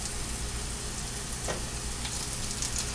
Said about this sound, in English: We got our onions going at a good pace, which I'm trying to make pretty much sauteed onions.